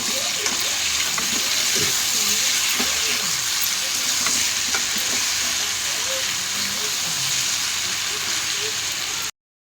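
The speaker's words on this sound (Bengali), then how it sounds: "হলুদ দেবো না, আর আবার নেড়ে চেড়ে দেবো" Taro stolons cooking with jackfruit seeds in a hot pan, a steady sizzle and fry with repeated scraping and stirring clatter throughout, close and continuous, no talking.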